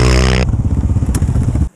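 A Yamaha Raptor 700 quad engine runs nearby with a rapid, chugging idle after a short opening burst of louder sound. The engine cuts off abruptly at the end.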